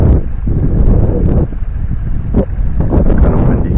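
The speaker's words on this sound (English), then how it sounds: "the wind's kind of blowing right into where you'd be casting" Gusty wind buffets the microphone beside a low, muddy river, a loud rumbling roar that rises and dips in uneven bursts.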